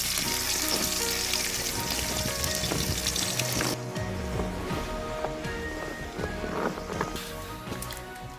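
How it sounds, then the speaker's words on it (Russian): Fatty meat sizzles and crackles loudly in a pan set at the opening of a wood-fired stone oven, a steady close frying hiss with small pops throughout and no talking. "Мясо напитывается дымком, а жирок при этом крайне аппетитно шкварчит."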